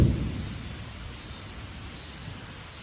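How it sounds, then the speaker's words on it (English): A low rumble of thunder fades away into steady rain noise, with no voices. "I have nothing against that thunder."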